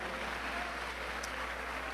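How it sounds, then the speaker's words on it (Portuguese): A church congregation at a sermon applauds together, a dense, even wash of clapping that runs the full moment without pause, heard from within the hall. "dando a Jesus uma linda salva de palmas"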